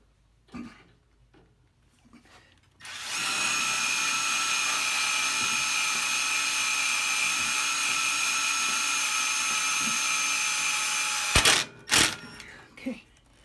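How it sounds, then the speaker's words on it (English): A power drill with a small bit drilling into metal whines steadily at high pitch for about eight seconds, then cuts off, followed by a few short bursts and light handling noise. "So let's start off with a small drill bit."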